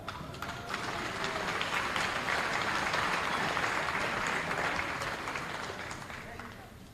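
An audience applauds all-league honorees at an all-star awards event, sustained clapping from a large crowd filling the room, swelling then slowly tapering off.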